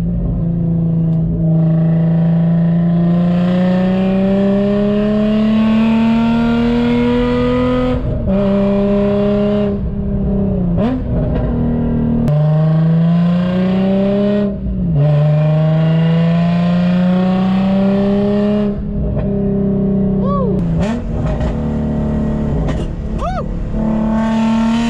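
A G35 drift car with a full Z1 exhaust drives under load, its loud engine note climbing repeatedly through revs with brief lifts between pulls, close and dominant throughout.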